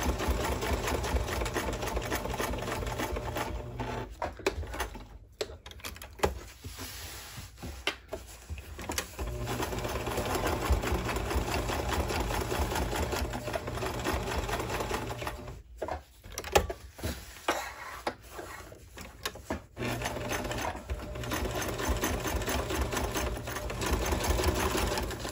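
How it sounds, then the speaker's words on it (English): A sewing machine runs a decorative stitch around the edge of a fabric banana leaf placemat, with a fast, steady mechanical chatter close up that pauses briefly twice while the fabric is pivoted. "It could be one of your decorative stitches that your machine provides you."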